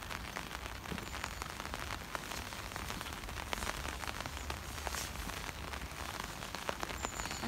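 Steady rain falls on the towpath and water along the Kennet and Avon canal near Newbury, England, as a dense, even hiss with scattered drop patters, heard alone without speech.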